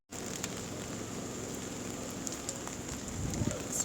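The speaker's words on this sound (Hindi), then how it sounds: "इतनी बारिश हो रही है और इतना मज़े का मौसम है" Heavy rain falling on a trip toward Naran, a dense, steady hiss and patter throughout, close and even, with a few louder knocks near the end and no voices.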